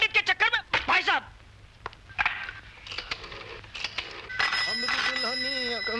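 A telephone rings in a Hindi Bollywood film scene, with repeated warbling ring bursts at the start and again near the end, mixed with voices talking and background film sound.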